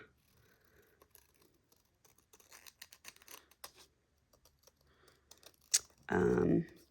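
Scissors cut out paper in a few soft snips, with light clicks and rustling along the way, then a short louder crunch of paper near the end.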